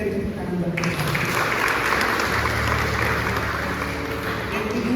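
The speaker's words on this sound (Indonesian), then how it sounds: "Berikan tepuk tangan bagi kita." A congregation at a GPdI Sejahtera Sunday service applauds a student honoured for academic achievement, a dense, steady wash of clapping filling the room throughout, with a faint voice or background murmur underneath.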